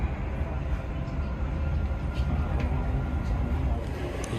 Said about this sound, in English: This train terminates at the next station.